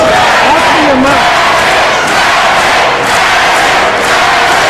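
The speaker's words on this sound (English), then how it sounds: "The crowd calling for Magic Johnson once again" A basketball arena crowd roars and chants for Magic Johnson, a dense, loud, sustained wash of voices with some rising shouts.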